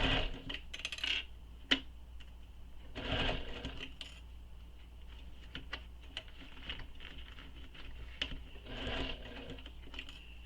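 Sewing machine stitching a fabric waist pack, a close, steady run of needle clatter with small bursts and pauses, no voices over it.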